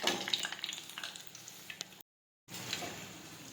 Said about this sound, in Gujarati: હવે આપણા ભજીયા છે તે તળાઈને તૈયાર થઈ ગયા છે